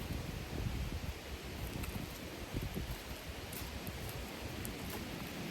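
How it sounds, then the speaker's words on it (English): Steady wind buffets the microphone outdoors, a broad rushing roar with low gusty thumps, no talking. "It's really windy out."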